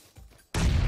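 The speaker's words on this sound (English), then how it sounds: "Flashbang." A flashbang grenade bursts in PUBG with a sudden loud blast that rings out into a sustained harsh roar after a short stretch of quieter game ambience.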